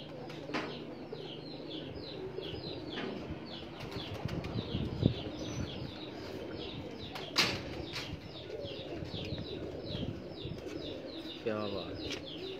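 Pigeons coo softly in a close coop while wings flap in short bursts now and then, with scattered chirps and faint background voices.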